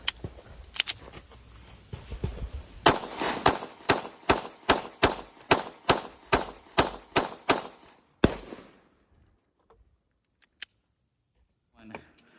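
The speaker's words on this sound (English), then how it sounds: "In particular, the ones that correspond with the shooting of this pistol." A Shadow Systems CR920P pistol fired in a steady string of about fifteen loud, sharp shots at a quick even pace, after a few earlier scattered reports and before a near-silent tail with faint clicks.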